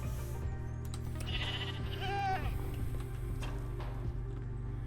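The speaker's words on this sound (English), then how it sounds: "The goat will also jump, and will attack certain mobs, including aggressive mobs." A goat in Minecraft 1.17 gives one wavering bleat in the middle, heard over a steady low background hum.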